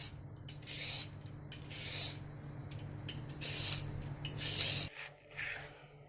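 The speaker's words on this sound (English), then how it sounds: "Peel the skin of the carrot." Peeler scraping the skin off a carrot in a kitchen, soft repeated rasping strokes close by over a low steady background hum, which drops away near the end.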